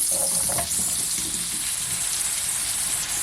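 Apples fry in melted butter in a pan for caramelized apple crêpes, giving a loud, continuous sizzle with a few faint clinks early on.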